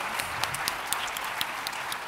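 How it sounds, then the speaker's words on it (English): Audience applause closes a panel discussion at the AGRF 2022 forum on healthy diets: steady, dense clapping from a large room for about two seconds, with no talking over it. "can we please just give my panelists a round of applause?"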